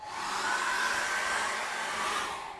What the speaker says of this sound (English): we need to dry that really well with a hairdryer